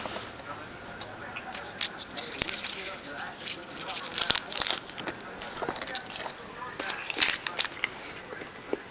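Close crinkling and tearing of a vanilla Tootsie fruit roll candy wrapper, in irregular sharp bursts with small handling clicks, while a person talks intermittently.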